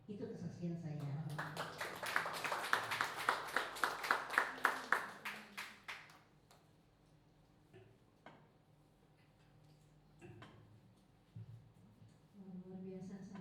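A church congregation at an elderly fellowship prayer service bursts into rhythmic applause after a testimony, the clapping swelling then tapering off into scattered claps, with talking afterward.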